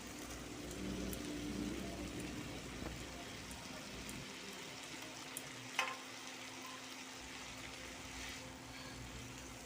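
Vegetables and spices fry in oil for a Bengali chikni shak chachari, a soft, steady sizzle heard close but faint, with a brief clink of a utensil partway through.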